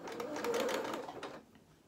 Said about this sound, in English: I'm afraid I am sewing over my pins